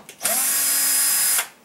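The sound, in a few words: power driver with T20 Torx bit removing dishwasher screws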